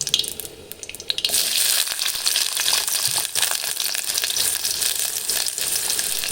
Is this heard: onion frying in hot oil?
yes